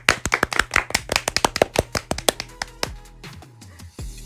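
A short burst of hand clapping, a couple dozen sharp claps that quickly thin out and stop.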